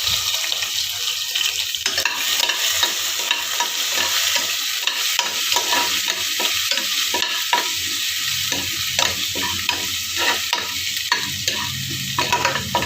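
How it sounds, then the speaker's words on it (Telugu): Green chillies and ginger-garlic paste fry in a pan with a steady, close sizzle, broken by frequent scraping stirs throughout. "పచ్చివాసన పోయేంత వరకు వేపాలి"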